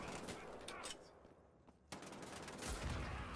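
Bursts of automatic gunfire from a favourite gun in the shooter Wolfenstein: The Old Blood, loud and close, with a brief lull mid-way before the rapid firing resumes.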